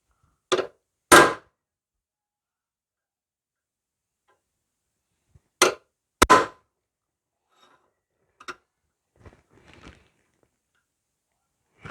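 Spring-loaded center punch snapping against the steel tang of a bushcraft knife, two pairs of sharp close metallic clicks a few seconds apart, followed by fainter light taps and handling noise.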